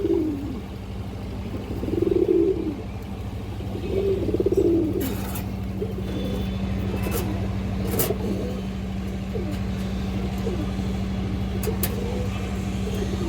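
Large black-necked pigeons coo in two or three rolling bursts during the first few seconds, then a steady engine-like hum and occasional sharp clicks fill the rest, with no speech.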